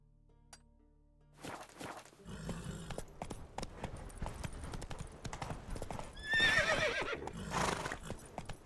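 Roach, Geralt's horse in The Witcher 3: Wild Hunt, neighs and clip-clops at a trot, hooves steady and close with a whinny rising over the hoofbeats near the end.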